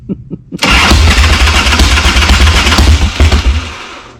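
A 1990 Harley-Davidson 883 Sportster motorcycle, rebuilt from a pile of parts, catches after a few faint cranking clicks and roars into a loud, rough, steady running idle close by, with no voices.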